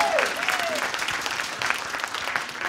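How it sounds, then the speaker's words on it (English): Steady audience applause fills a lecture hall as students welcomed to an art club talk clap together, dense and continuous for a few seconds. "So give yourself applause."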